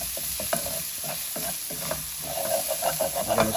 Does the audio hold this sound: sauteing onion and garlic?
yes